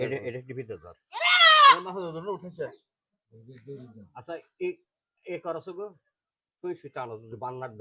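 A goat bleats once, a short wavering cry standing out between stretches of nearby talk on a goat farm.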